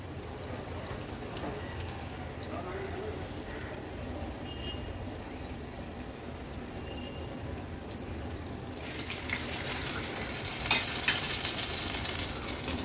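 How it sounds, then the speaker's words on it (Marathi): Bhokache vade, Agri wedding fritters, frying in hot oil with a steady soft sizzle and bubbling, growing brighter and crackling louder in the last few seconds, with no one talking. "एक जण वडे टाकेल आणि एक जण तळेल"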